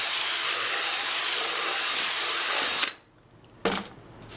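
A power drill bores into wood for a DIY bird feeder, a loud steady whine held for nearly three seconds, then stopping abruptly; after a short pause a brief second burst of drilling starts up.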